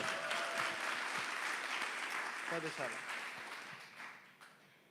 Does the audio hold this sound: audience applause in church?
yes